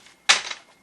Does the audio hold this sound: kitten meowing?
no